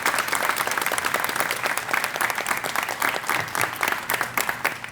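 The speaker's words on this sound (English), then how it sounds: "So how about a round of applause for all of our students that are here with us today?" Audience at a school aviation program pinning ceremony applauding the students, dense, close clapping from a large crowd with a lively, uneven texture, continuing throughout.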